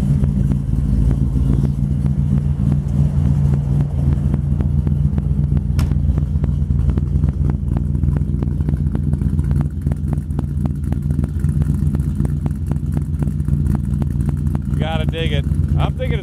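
A 1947 Oldsmobile 66 street rod with a 455 Olds V8 runs steadily at idle, a loud, continuous low rumble throughout with slight clatter and no talk.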